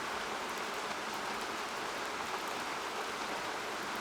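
Continuous rain ambience used as a background masking sound for tinnitus, a steady hiss of falling drops without pauses or thunder, heard alone at an even, moderate level.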